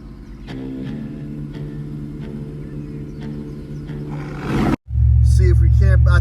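A Chevrolet Silverado sleeper truck tuned past 650 horsepower idles with a steady deep rumble, then a brief dip before the engine swells to a louder, heavier drone.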